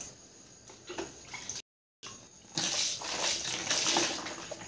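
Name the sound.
washing feet with water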